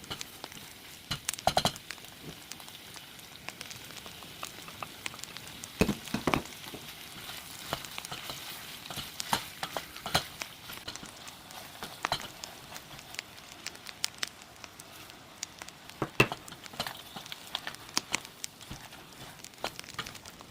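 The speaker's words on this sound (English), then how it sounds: "add 2 medium-sized chopped onions to the oil and stir them well" Onions and tomatoes fry and get stirred in hot oil in a pan, giving a steady close sizzle broken by irregular scraping strokes and clatter throughout, with no talk.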